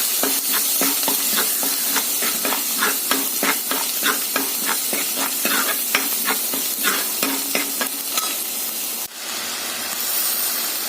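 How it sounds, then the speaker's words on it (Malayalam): Ginger, garlic and black pepper paste frying in a pan for a crab curry, with a loud continuous sizzle and a rapid, regular run of spatula stirring scrapes against the pan, then a brief break near the end. "ഇനി അതിലേക്ക് ഇഞ്ചി, വെളുത്തുള്ളി, കുരുമുളകിൻ്റെ പേസ്റ്റ് ഇട്ട് കൊടുക്കാം. ഇതിൻ്റെ പച്ചമണം മാറുന്നിടം വരെ ഒന്ന് ഇളക്കി കൊടുക്കാം."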